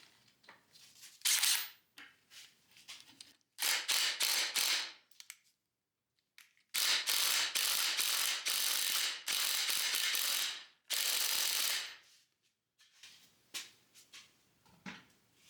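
Small impact wrench hammering at a stubborn front beam bolt on a 1956 barn-find VW Beetle, loud rattling bursts of one to three seconds separated by short pauses, close up.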